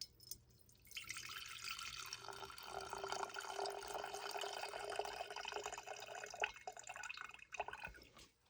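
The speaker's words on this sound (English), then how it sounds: "let's pour this out again" Murky dye bath water poured out into a sink, a steady splashing, trickling flow that starts after a brief quiet and runs continuously, with dripping and gurgling toward the end.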